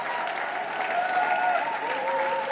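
A church congregation at a Sunday service applauds and acclaims, a dense wash of clapping with cheering voices rising and falling through the hall, moderately loud and continuous.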